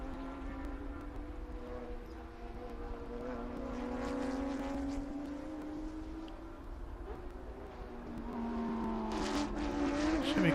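A Porsche race car on its final lap at Sebring sweeps past with a sustained engine drone that rises in pitch as it nears, then swells louder toward the end with a second, brighter engine tone coming in.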